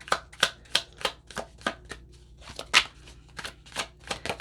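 Tarot cards shuffled by hand in a quick run of crisp, close riffling bursts, about a dozen evenly spaced flicks with no talk.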